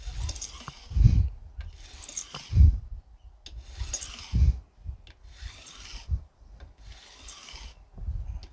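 A file rasps along the sharp edges of guitar fret wires during a refret, in repeated rhythmic strokes about every second and a half, each a scraping swell with soft knocks between, close and moderately loud with no talk.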